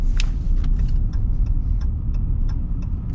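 Cabin of a 2025 Ram long-wheelbase pickup truck on the move, a steady low road and engine rumble with faint light ticks and clicks on top, no talking.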